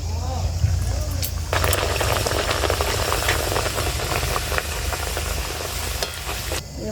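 Loud, dense sizzling and crackling as pea kachori drop into hot white oil, a steady bubbling fry with sharp pops that starts after a brief pause and cuts off near the end.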